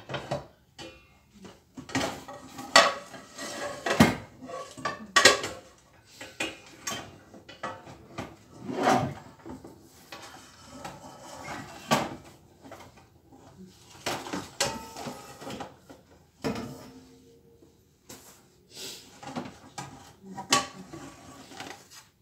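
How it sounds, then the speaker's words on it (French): Pans and kitchenware clatter and bang as a large frying pan is pulled out for cooking sole. The metallic knocks, scrapes and drawer-like thuds come close and busy, repeating irregularly without pause. "Donc, on va peut-être prendre une grande poêle."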